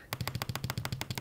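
Rapid automatic gunfire from a video game battle, about a dozen sharp, evenly spaced shots in quick succession, loud and close with no talking.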